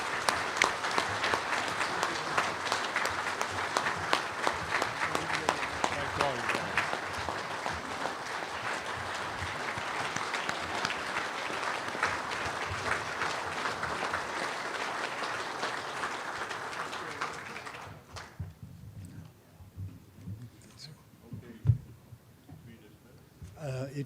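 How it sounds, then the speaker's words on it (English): Convention audience gives a long, loud round of applause that holds steady for nearly twenty seconds, then cuts off to a quiet room with scattered noises and a faint voice. "Let's give them all a round of applause."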